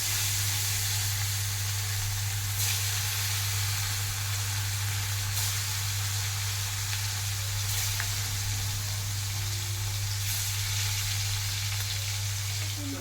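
Fish frying in hot oil, a loud, dense, steady sizzle that holds unbroken for the whole stretch, with a low constant hum beneath and faint occasional crackles, and no talking.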